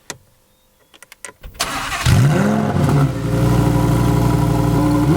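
A Lamborghini Huracan Performante starts up after a few clicks, its engine cranking and catching with a loud, close rev flare before settling into a rumbling idle.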